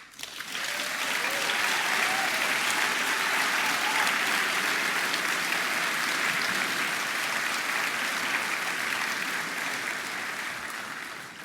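An audience at a 2019 university graduation ceremony bursts into sustained applause, with steady, even clapping that holds for about ten seconds before tapering off.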